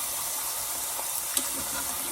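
Dough squares frying in a fryer give off a steady, close hiss and fine crackling bubbles throughout, with no talk.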